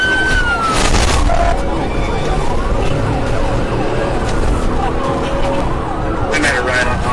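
Police car sirens wail and sweep in pitch during a pursuit through a city, with the roar of vehicle engines and traffic underneath. Several siren tones overlap and sound loud and close the whole time, and there may be voices mixed in.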